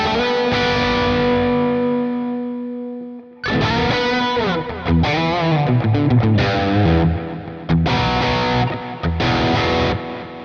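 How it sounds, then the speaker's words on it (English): A distorted melodic line runs through a stock mono echo delay plugin with pre-EQ, analog style, its repeats trailing after each phrase in a loud, dense, continuous sound. "I think it already sounds like a nice echo mono delay"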